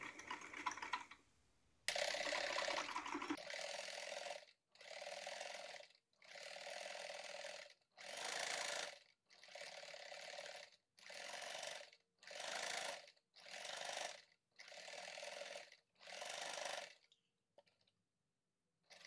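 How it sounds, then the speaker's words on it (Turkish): A sewing machine stitches tulle fabric with a size 12 needle, running in about a dozen short, close bursts of fast mechanical clatter separated by brief pauses, no talk. "Dikiş iğneme 12'ye aldım. Bu tül için yeterlidir. Dikmeye başlıyorum."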